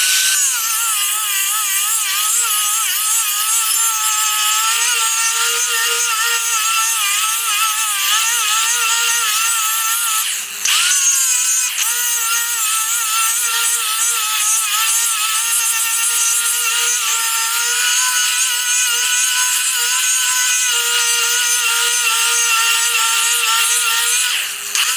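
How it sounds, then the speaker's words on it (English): An angle grinder with a 24-grit disc grinds steel while shaping a metal slapper tool, a loud continuous high whine that holds for the whole stretch and dips briefly once near the middle. "you generally want to go off the edge when you're doing grinding"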